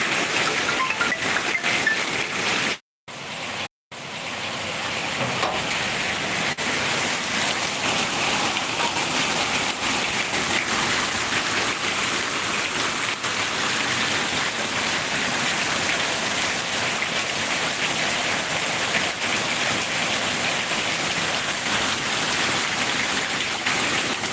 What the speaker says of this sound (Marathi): पाऊस बघा आमच्या घरामध्ये पाणी भरलंय